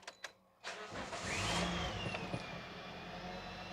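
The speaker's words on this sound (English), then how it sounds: "So we are going to turn the vehicle on." A Toyota Corolla 1.8 engine is started: a few brief clicks, then the starter cranks and the engine catches with a rising rev, settling into a steady close idle.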